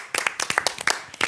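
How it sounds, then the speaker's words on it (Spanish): Clapping from a studio audience on a Spanish-language TV variety show, a handful of distinct, closely spaced hand claps at moderate loudness with no talk over them. "Hola, Yanina, un aplauso."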